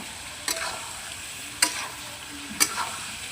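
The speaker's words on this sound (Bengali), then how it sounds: "আমার মাংস কষতে লাগিয়েছি, মাংস কষা করছি। দেখো এইভাবে মাংসটাকে লাড়িয়ে" Meat fries in oil with onion, garlic and ginger under a steady faint sizzle, while three distinct spoon strokes scrape the pan at roughly one-second intervals, close by.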